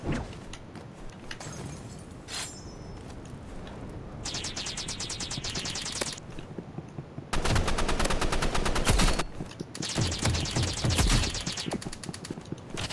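Video game shooter gunfire in a ranked match: sustained machine-gun bursts with rapid rattling shots, loud and close, broken by brief pauses between volleys.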